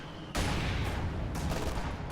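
Sustained burst of MG42 machine-gun fire in a World War II strategy game, loud and dense rapid gunfire starting abruptly after a short quiet moment and continuing without pause, with no talk.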